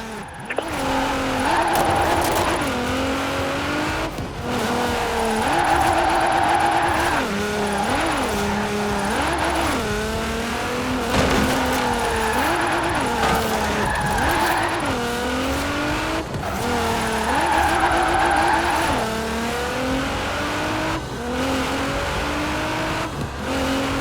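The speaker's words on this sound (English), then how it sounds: "let's really shred those tires." A car drifting in the racing video game Forza Horizon 4 produces a loud, continuous engine roar that rises and falls with repeated revving, while long wavering tire squeals come through over the top.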